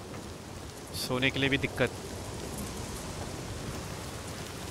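Steady rain pours down in the Days Gone game world, an even hiss of drops on surfaces, while someone briefly speaks over it near the start.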